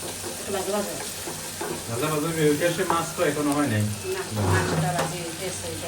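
Shrimp sizzle while being sautéed in a pan, a steady frying hiss with stirring, heard under a person talking throughout.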